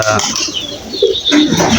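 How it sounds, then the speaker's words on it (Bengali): Pigeons coo in low, soft bursts among light chirps and some rustling, fairly close, with no talking. "বাইরে বড় কবুতর গুলো দেখতে পাচ্ছেন তো"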